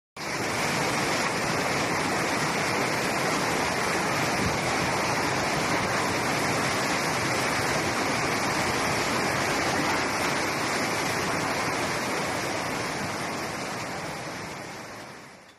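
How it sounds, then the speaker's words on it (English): Water released from Miun Reservoir rushes downstream in a dense, steady roar of broadband noise, heard without any voices and fading slightly at the end. "authorities were forced to release water from the reservoir and issued warnings to downstream communities about potential flood risks"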